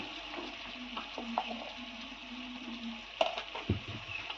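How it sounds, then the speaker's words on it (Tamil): Turmeric, chili powder, garam masala and kuzhambu powder fry in oil for a cabbage gravy, giving a steady soft sizzle with stirring scrapes and a few louder clinks of the spoon against the pan near the end. "மசாலாவெல்லாம் நல்லா எண்ணெயில் வதக்கி விட்டுக்கலாம்"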